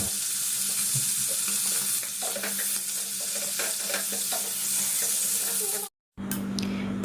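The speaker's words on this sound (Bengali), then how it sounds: "এবার আমি এটাকে একটু হালকা ফ্রাই করে নিচ্ছি" Chicken leg pieces frying lightly in a pan over a medium flame, a steady sizzle with scattered stirring clicks and scrapes, broken by a brief drop to near silence before the hiss returns.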